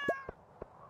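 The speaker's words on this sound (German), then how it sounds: "Miau." A cartoonish cat meows once, clear and close, in the farming video game Stardew Valley, followed by a few soft, evenly spaced game clicks.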